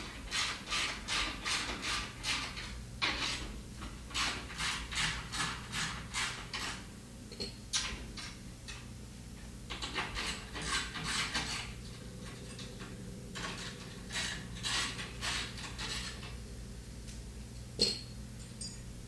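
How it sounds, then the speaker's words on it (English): A ratchet socket wrench removes the tub-to-leg screws of a commercial top-load washer. Quick ratcheting clicks repeat in runs over a steady background hum, with short pauses between the turns and a louder clack near the end. "Using a 1/2" socket, remove the 6 tub to leg screws and plates."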